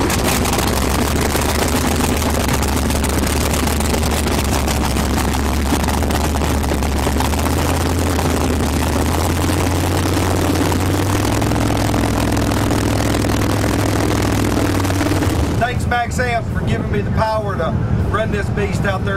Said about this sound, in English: now I'm going to go around and start the motor and you can hear what this bad battery does here